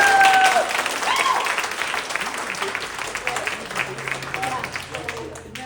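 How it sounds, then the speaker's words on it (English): An improv comedy show audience claps steadily, the applause loud at first and gradually thinning out, with some voices mixed in. "Give a round of applause for Nestor"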